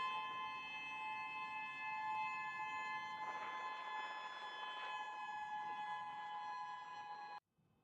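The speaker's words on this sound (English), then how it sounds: "the sirens were heard after the earthquake came" A steady, sustained civil-defence siren wails across a Russian district after an earthquake, tonal and unbroken at moderate distance, then cuts off abruptly near the end.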